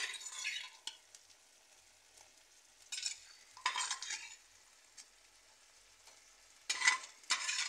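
Potato goes into a pan of beef pieces, bringing soft intermittent scraping and stirring bursts over a quiet background, with a faint utensil clatter between them. No voice.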